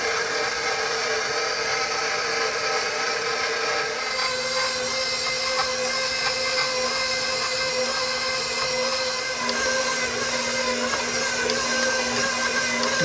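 A stand mixer kneads pizza dough with a continuous, steady motor whine and hum, loud and unbroken throughout.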